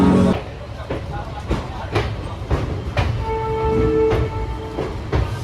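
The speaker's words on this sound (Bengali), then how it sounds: "জার্নি স্টার্ট হয়ে গেল, ট্রেন ছেড়ে দিল 9:55, এখন রাইট টাইমে ছেড়ে দিল ট্রেনটা।" Netaji Express train pulling out of Howrah station, with a low rumble and regular clanking wheel beats, plus a brief tonal squeal, heard from aboard under talking.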